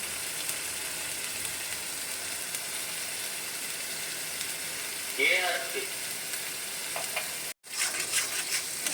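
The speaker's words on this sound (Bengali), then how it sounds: "মশলাটাকে ভালো করে এখন কম তেলে কষিয়ে নিচ্ছি" Ginger-garlic paste and chili powder masala frying in a little oil for a village-style prawn curry, a steady close sizzle with stirring scrapes. A brief clatter comes near the end.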